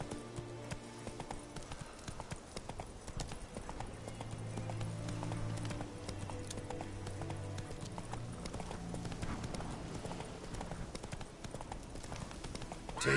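Galloping hooves of the horse Roach in The Witcher 3, a fast, continuous clip-clop rhythm up close with a low rumbling backdrop.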